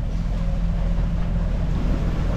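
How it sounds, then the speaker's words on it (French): Sailboat crossing open sea in light wind over a huge ocean swell, giving a steady, loud wash of water and wind rumble with a low hull drone throughout, no voices. "Par contre le vent est tombé à 5 nœuds et il y a une houle énorme."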